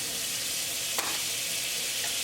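Butter sizzling in a pan before mushrooms go in, a steady close hiss with one small tap of a utensil.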